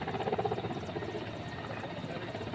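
An Air Force helicopter flies a flood rescue over the surging Mahisagar river during Gujarat's monsoon, its rotor throbbing in a loud, steady, close drone that fills the whole stretch.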